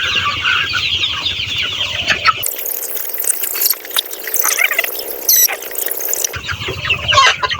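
Sonali super hybrid chickens at 43 days old cluck and squawk up close during weighing, with loud flapping and scuffling in the middle section and steady clucking before and after.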